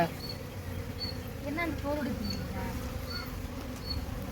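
Honey bees buzzing steadily around a comb being harvested from inside a bullock cart tyre, a dense close swarm drone filling the whole stretch with faint voices in the background.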